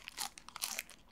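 Crunchy food being bitten and chewed, a dense run of sharp crackling crunches in quick bursts, close and fairly loud, with no talk.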